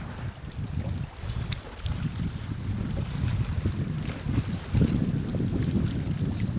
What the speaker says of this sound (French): Et on se laisse bercer par les vagues.